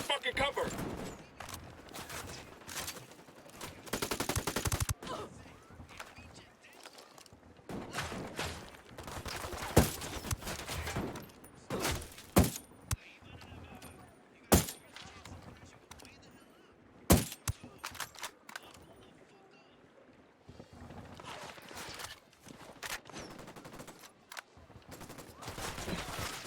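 Sniper fight in Ghost Recon Wildlands with scattered bursts of gunfire, sharp single shots and short volleys spread across the scene, mixed with shouted voices and game noise.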